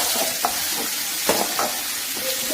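Chopped red chili, shallots and garlic frying in oil for a jackfruit dish, a steady close crackle and sizzle with scattered scrapes and taps of a spoon in the pan, no voices.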